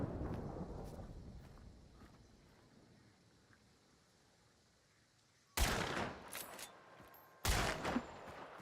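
Two loud, sharp gunshots in the video game Hunt: Showdown break a quiet outdoor ambience, the second about two seconds after the first, each with a brief ringing tail.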